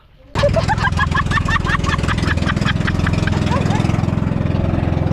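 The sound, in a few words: old boat engine sputtering and misfiring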